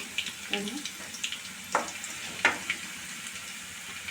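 Green chillies and onions sautéing in a pan for a Karaikudi-style dish, a soft faint sizzle with a few light scraping stirs and clinks across a few seconds.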